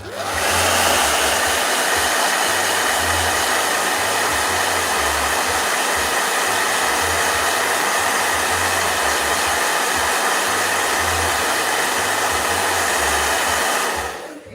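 A blow dryer runs steadily and loudly for nearly the whole stretch, a constant broadband whoosh with a low pulsing hum underneath, cutting off abruptly at the end.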